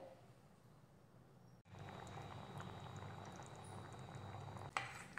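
Potato curry, batata rassa bhaji, simmers in a pan, a soft steady bubbling that starts after a brief quiet moment, with a small clatter near the end.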